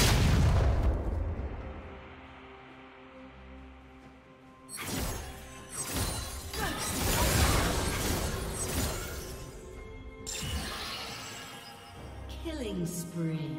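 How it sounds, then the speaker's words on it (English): A turret is destroyed in League of Legends, with crashing, shattering explosions and booming impacts in loud bursts over a continuous game soundscape, and a game announcer voice speaks at points. "Team's turret has been destroyed."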